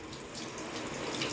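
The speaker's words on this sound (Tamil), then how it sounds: "தண்ணி வந்து அவுட் சைடு வந்து வர ஆரம்பிச்சிருச்சு." Water rushes steadily from the outlet of a newly installed RO water purifier filter, a continuous close hiss with no pauses and no talking.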